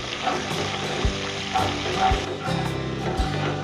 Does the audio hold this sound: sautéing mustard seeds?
yes